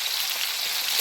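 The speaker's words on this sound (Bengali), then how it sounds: "মাছগুলোকে আমি 15 থেকে 20 সেকেন্ড হালকা ভেজে নেব, তারপরেই উঠিয়ে নেব।" Prawns fry lightly in hot oil in a pan for prawn pulao, giving a steady, loud, close sizzle with no voices.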